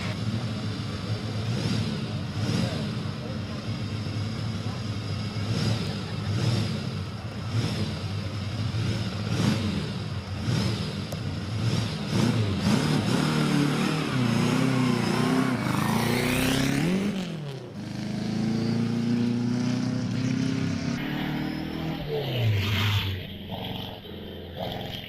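A Bugatti Type 51 racing car at the Prescott hillclimb accelerates hard, its engine revving through gear changes up close before sweeping past and fading into the distance.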